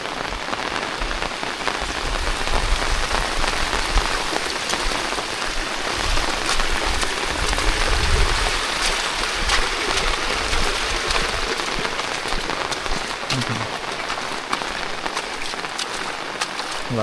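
A steady, heavy downpour drums over a village during a second day of nonstop rain, a loud unbroken wash of drops with no talking.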